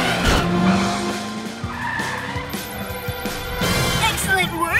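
A cartoon cat car peels away with loud squealing, skidding tires over a revving engine, thick with layered effects and music, while voices speak over it.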